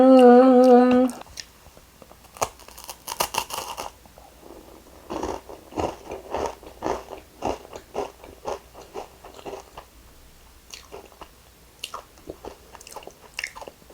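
Crisp bites and crunching of a thin, flaky flat salty Mont Blanc pastry made from pressed-flat dough, repeated chewing crunches close up, with a brief tonal sound at the very start.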